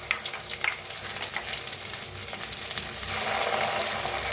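Finely chopped onion frying in hot oil with cumin and asafoetida: a dense, crackling sizzle that swells toward the end, with faint scraping, close by but fairly soft, no voices.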